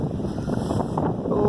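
Strong blizzard wind at night in snow, about 13°F with 20 mph gusts in Elgin, North Dakota, roaring steadily and buffeting the microphone with a dense, continuous rush and no voices.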